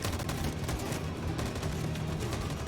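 Dense, continuous gunfire fills a firefight in the video game Detroit: Become Human. It is a loud, unbroken wall of rapid shots and blasts with no pauses, and there is no talk.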